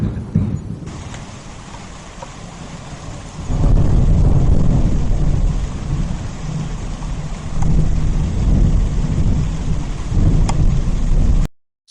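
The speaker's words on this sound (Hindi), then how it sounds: "बारिश फिर तेज होने लगती है" Heavy rain pours steadily with deep thunder rumbling through it, swelling louder partway through and staying dense and close before cutting off abruptly at the end.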